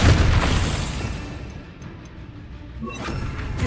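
A Depulso spell blast in Hogwarts Legacy booms loudly at the outset, fades through a rumbling decay, then a second sharper impact with crackle rises near the end.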